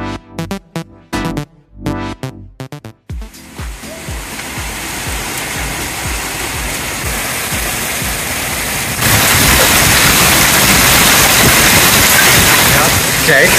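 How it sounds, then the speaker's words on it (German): Heavy hail and rain storm lashing down in Graz during a May flood, a loud continuous roar of pounding precipitation that swells stronger partway through, following a few seconds of sparse, intermittent bursts at the start. "Ja, und jetzt hagelt es schon ganz schön."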